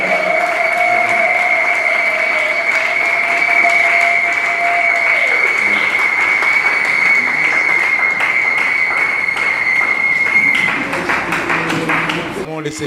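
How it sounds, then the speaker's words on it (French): Congregation at a church investiture ceremony applauding steadily in a dense, continuous wash of clapping, with a sustained tone running beneath and the applause thinning slightly near the end. "On acclame bien fort le Seigneur."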